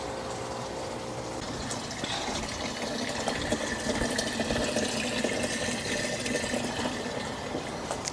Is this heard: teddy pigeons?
no